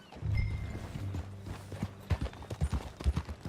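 Horse hooves clip-clop in Red Dead Redemption 2, a quiet, close walking rhythm of separate hoof strikes that sharpens partway through, over a low rumbling hum.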